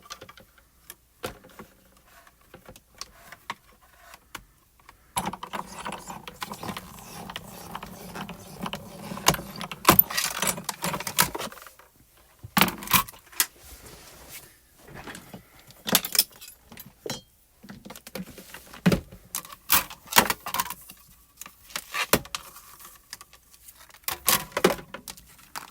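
Spellbinders metal dies being cut in a die-cutting machine with the top plate on, a close run of mechanical clicks, ticks and rattling bursts in irregular clusters with quiet gaps between them.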